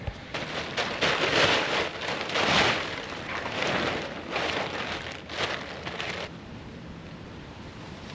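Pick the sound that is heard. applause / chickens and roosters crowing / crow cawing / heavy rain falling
heavy rain falling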